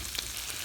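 Food sizzles and fries in a pan while cooking outdoors in winter snow, a steady close hiss with faint crackles, no talking.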